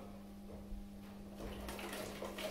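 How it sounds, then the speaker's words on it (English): Water pours through a funnel into a vessel while making home-brew mead, a soft low trickle that swells into a brighter splashing rush partway through. "we're going to use a funnel. Oh, nice. Get the water in there."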